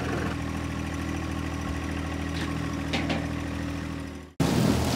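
A tractor engine runs steadily with a 10-foot flexwing mower while mowing tall heavy grass and brush, a loud continuous drone that drops out briefly near the end before resuming.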